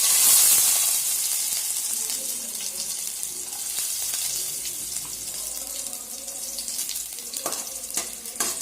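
Garlic dropped into hot cooking oil sizzles in a steady, close hiss with bright crackling throughout, loudest at the start and continuing evenly without talk.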